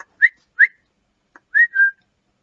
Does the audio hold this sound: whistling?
yes